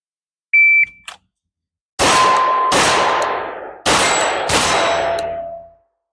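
Handgun shots ring off steel targets at about 25 yards outdoors: a few sharp, loud cracks, each followed by a metallic clang and a long ringing decay, spaced roughly a second apart.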